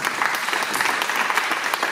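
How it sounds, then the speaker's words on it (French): Steady, dense applause from an audience at a nursing home opening ceremony in France, a continuous wash of many hands clapping at even loudness. "je propose qu'on l'applaudisse"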